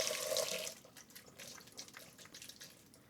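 Fresh mussels, debearded, are rinsed under running water, a quiet close splash and trickle that starts with a burst of flow and then breaks into irregular drips and swishes.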